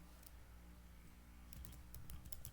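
Code being typed on a computer keyboard, steady soft key clicks building into quicker, louder bursts of keystrokes over a low background hum, close and with no voices.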